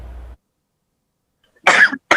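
A person coughs in two short bursts near the end, after a stretch of silence, close and fairly loud.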